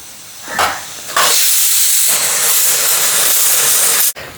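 Steam from a pressure cooker of cooked beef hisses loud and steady for about three seconds after two short puffs, then cuts off abruptly near the end.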